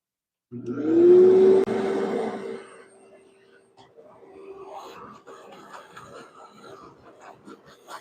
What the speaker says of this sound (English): I think we're going to have to vacuum that out.